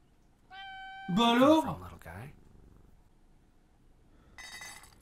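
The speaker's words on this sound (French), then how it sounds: "Juste on peut caresser le chat, ça me rend heureux." A cat in the horror game We Harvest Shadows gives a couple of bright meows with a soft purr between them, while someone talks over part of it.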